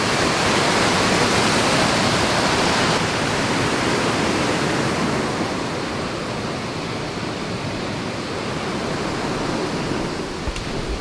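Steady, loud rushing roar of a mountain waterfall, a dense broadband wash of falling water that holds constant throughout with no voices over it.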